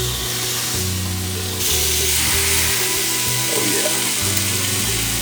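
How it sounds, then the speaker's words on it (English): Steak sizzles loudly in a grill pan, the hiss jumping in volume as the meat lands and staying strong and close, with music underneath and a brief spoken exclamation. "Steak going in the grill pan."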